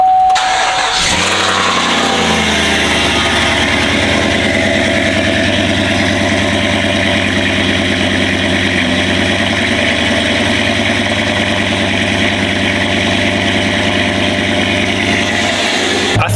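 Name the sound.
truck engine cold start and idling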